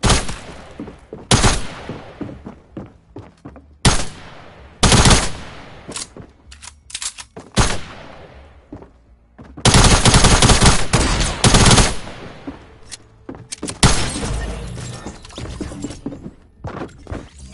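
Heavy gunfire in a video game, including double-barrel shotgun blasts, comes as loud close bursts and rapid volleys that break off and resume, with brief pauses between clusters and dense sustained firing in the middle.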